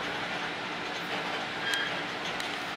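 A train running through Toronto, a steady broadband rumble of rail travel with a faint rhythmic clatter throughout, fairly close and continuous, with a brief high squeal partway through and no talking.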